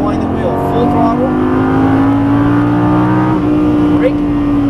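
Lamborghini Gallardo V10 pulling hard at full throttle on a racetrack, a loud steady engine note rising slowly in pitch, with someone talking over it.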